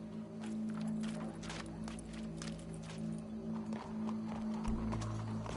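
Horse hooves clip-clop steadily in Red Dead Redemption 2, a continuous trotting rhythm over a droning background hum, with faint speech in places.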